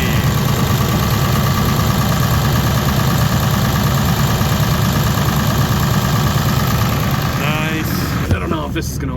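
A 7.3 Powerstroke diesel engine holds a high idle, a steady loud clattering drone close by that runs throughout, with a brief voice at the very end.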